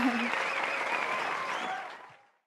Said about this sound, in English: I was just applauding what you were